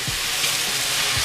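Seasoned onions being tossed in melted butter in a pan for ackee and saltfish, giving a loud, close, continuous sizzle with faint stirring bumps and no voices.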